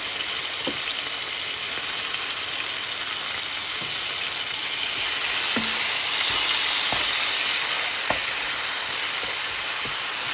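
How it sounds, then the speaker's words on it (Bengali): Onion paste sizzles in a pan of browned onions for a chicken roast, a steady close hiss of frying running throughout, broken now and then by faint scrapes and clicks of stirring. "আমার চিকেনের পরিমাণ অনুযায়ী আমি এখানে পেঁয়াজ বাটা দিলাম"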